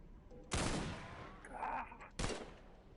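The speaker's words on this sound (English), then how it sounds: "Oh, they're shooting back." Gunfire in the video game The Xcom Files: two sharp, loud shots about a second and a half apart, each with a noisy tail, with faint background sounds between them and no speech.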